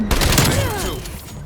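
A quick burst from a TEC-9 submachine gun in Call of Duty: Black Ops Cold War, sharp rapid shots followed by ringing, whistling tails that fade out, loud and near.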